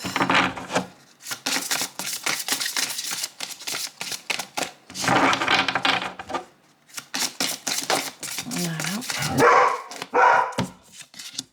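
An excited female dog barks in loud, repeated bursts with brief gaps between, close to the listener, broken by short clicks and handling noises.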